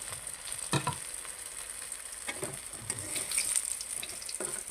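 Eggplant chops deep-frying in hot oil, a steady soft sizzle with a few short scrapes and clatters of a spatula turning the pieces.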